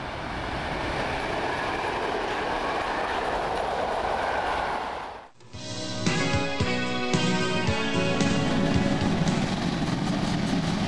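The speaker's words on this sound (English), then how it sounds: "this steam train is passing" A steam train passes close by along a railway line with an open, unobstructed view, its loud rolling wheels and carriages building to a sustained rumble with rhythmic clatter after a brief dip in the noise.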